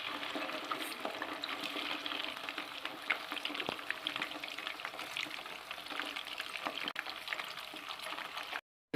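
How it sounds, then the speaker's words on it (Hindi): Fish frying in hot oil gives a dense, continuous crackling sizzle held at an even level throughout before it cuts off abruptly at the end. "इसको मैं फ़िश को फ्राई करूँगा इसमें"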